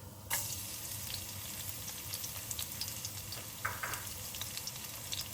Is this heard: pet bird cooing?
no